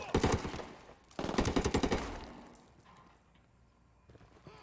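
Two rapid bursts of automatic gunfire in a video game, loud and close, followed by fading echoes and quiet ambience.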